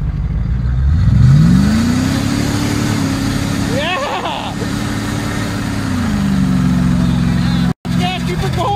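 An old red car engine revs hard during a burnout, rising from a low rumble to a sustained loud roar that holds for several seconds, then drops back; people talk over it.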